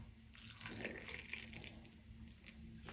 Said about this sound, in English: Here the milk is already cooled down and I'm going to pour that in Krishna's cup.